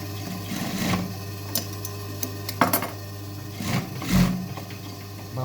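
A sewing machine stitching jeans whirs in short bursts with pauses and clicks between runs, close and fairly quiet, no talking.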